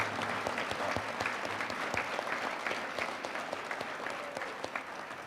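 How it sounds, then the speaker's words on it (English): Steady, dense applause from an audience fills the space, sustained evenly at a moderate distance, greeting graduating cadets at a law enforcement training ceremony. "Let's give them a big round of applause."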